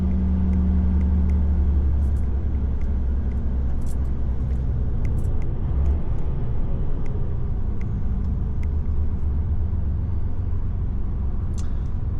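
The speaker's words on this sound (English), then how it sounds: "Let's get the engine braking on the go" Truck using its engine brake on the road, a heavy continuous low rumble with steady drivetrain drone and occasional faint clicks, loud and unbroken throughout.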